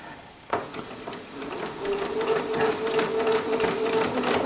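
A sewing machine stitches quilt pieces for flying geese blocks. It starts abruptly, then runs in a fast, even mechanical whir with rhythmic ticking, close and fairly loud.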